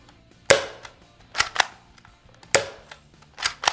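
A Dart Zone Mrk 2.1 or Adventure Force Brute Pro foam dart blaster firing over a chronograph: sharp, close pops, one single then a quick pair, repeated twice.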